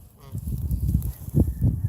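Pet geese honking close by, a few loud nasal honks in quick succession with low grunting calls between them.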